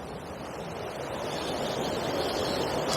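Water pours out of a river weir as a steady broadband rush that swells slightly louder toward the end, heard alone with no voices.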